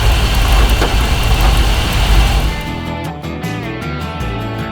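A Ford F-350 truck engine running on LPG after sitting for years, loud rough low rumble close by that drops to a quieter, uneven idle midway, with no talk.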